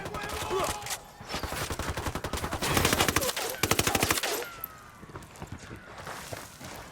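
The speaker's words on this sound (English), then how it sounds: "Opening fire." Gunfire in the video game Ghost Recon: rapid bursts of automatic fire in dense rattling strings, loud and close, easing off toward the end.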